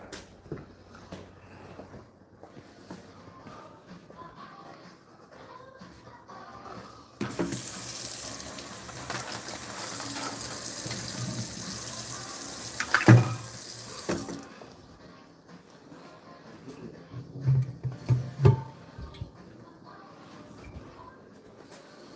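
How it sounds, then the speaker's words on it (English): A tap runs into a sink for about seven seconds, a steady rushing gush with a clear start and stop, set between quieter stretches of room noise, with a few clanks near the end. "Let me grab some water."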